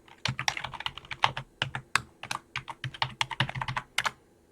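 Login name and password tapped out on a computer keyboard, a quick irregular run of crisp clicking keystrokes, close and fairly quiet with no voices.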